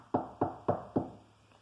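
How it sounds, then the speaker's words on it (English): Four evenly spaced knocks on a tiny door, crisp and close, followed by a faint fifth tap, with no voices. "Let's knock at the door."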